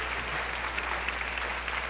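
Steady applause from a studio audience at a 1975 musical game show, a dense even patter of many hands clapping at close range for a couple of seconds.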